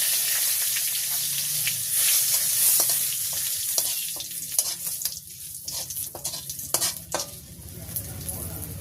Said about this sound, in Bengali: এর ভিতরে দিয়ে দেবো কয়েকটা গোটা জিরা, দিয়ে দেবো শুকনো লঙ্কা আর তেজপাতা।